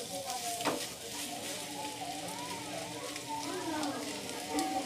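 A spiced vegetable masala for shahi mixed paneer sizzles loudly in a pan, with a sharp stirring scrape near the start and faint tonal background sounds under a constant fry.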